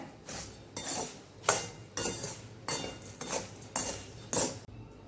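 A spoon stirring sugar into warm seasoned puffed rice in a metal pot, about seven regular scraping strokes that clink against the metal, close and fairly quiet.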